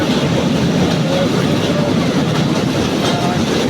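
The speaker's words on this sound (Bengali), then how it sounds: "আমাদের যে ট্রেন যাচ্ছে সেই ট্রেনের দৃশ্যটি আপনারা দেখতে পাবেন" A train rolls past near a fish pond, a loud continuous rumble with rhythmic clattering of wheels and carriages filling the whole span, with faint talk underneath.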